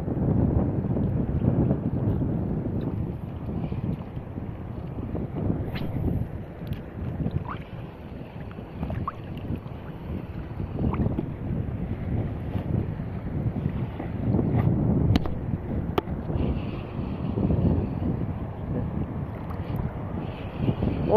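Strong wind roars across the microphone at sea while fishing, with a continuous low rush of water and waves, steady throughout, with occasional faint knocks.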